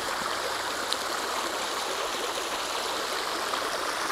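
Creek water at Panther Creek State Park flowing over solid rock, a steady close rushing babble that goes on without a break and has no voices.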